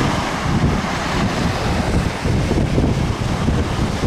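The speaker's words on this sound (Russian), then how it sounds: "Рядом море." Sea waves and strong wind on a sandy Crimean beach at Mirny, a steady broadband roar of surf with wind buffeting the microphone, no talk.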